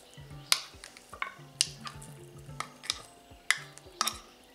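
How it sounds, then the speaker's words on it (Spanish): Canned tuna in its own oil worked into a spring salad with a fork, soft wet squishing and light clinks of the fork against the bowl in an uneven rhythm, close and quiet. "Ahora vamos a echar el atún"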